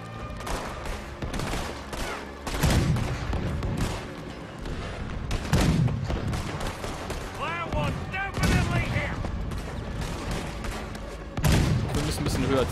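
Heavy cannon booms in Red Dead Redemption 2 go off in bursts about every three seconds, loud and close, with voices talking and game effects between the blasts.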